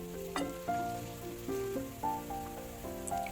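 Onion sizzles in a little oil in a frying pan, a soft continuous crackle running under louder melodic background music.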